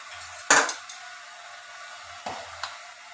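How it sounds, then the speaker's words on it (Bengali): Spoon clanks and scrapes against a pot while boiled lentils and split peas are stirred together, a sharp knock near the start and a couple of softer scrapes later, close and otherwise quiet. "এবার আমরা একটু নাড়িয়ে ছাড়িয়ে নেব।"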